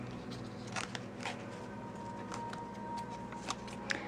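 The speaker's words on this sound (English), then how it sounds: "the cards are quite quite sturdy and quite thick, so it can be a really difficult deck to shuffle" A thick, sturdy tarot deck being shuffled, faint and close, with soft papery rustles and a scattering of small crisp snaps and flicks over a low steady background hum.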